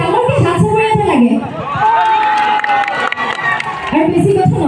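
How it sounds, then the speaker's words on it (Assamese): A crowd cheers and claps at a Bihu-season stage event with singing, loud throughout with shouts, whistles and a steady wash of applause. "সকলোৱে ডাঙৰকৈ হাত চাপৰি এটা লাগে"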